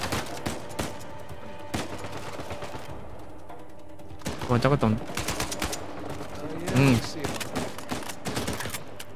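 Gunfire from the video game Uncharted 4, with rapid bursts and single shots popping through busy game audio, a couple of heavier blasts near the middle and end, while someone talks over the action.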